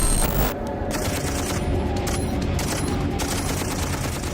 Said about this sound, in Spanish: la ametralladora M60 demostró por qué es la mejor amiga de la infantería